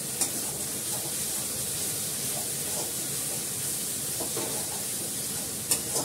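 Spiced masala paste frying in oil for a fish curry sizzles and spatters steadily at close range, with a continuous bright hiss broken by stirring scrapes and a couple of sharp pops near the end.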